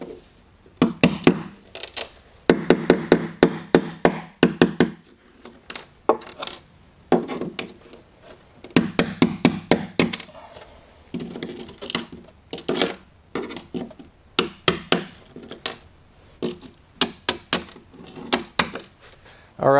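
Wood chisel being hammered to knock out set porcelain tile from a shower pan, giving repeated sharp knocking and chipping impacts in irregular bursts, close and fairly loud, with no talk.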